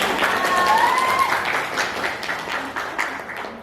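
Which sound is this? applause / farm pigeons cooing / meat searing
applause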